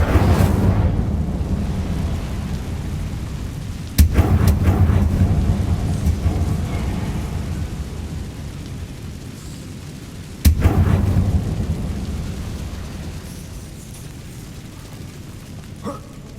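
The Incendio fire spell in Hogwarts Legacy, cast twice as sudden loud whooshing bursts about six seconds apart, each rolling into a long, fading roar over a steady rumbling background.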